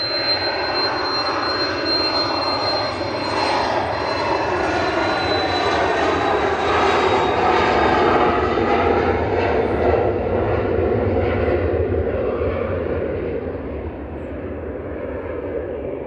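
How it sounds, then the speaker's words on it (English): A small Embraer Phenom jet roars loudly past at Manchester Airport, a sustained engine rush with a thin whine that slowly drops in pitch and fades near the end. "Oh, this might be a bit noisy. Little Embraer Phenom here."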